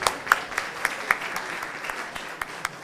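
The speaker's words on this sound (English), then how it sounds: "Let's give a round of applause to all you people." Scattered, fairly faint applause from an audience at a research conference, with uneven individual claps over a soft background wash.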